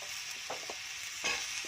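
Pumpkin tumbling into a pan of frying potato and taro for vegetable khichdi, a steady soft sizzle with a few light stirring knocks and a brighter burst of hissing near the end, no talking.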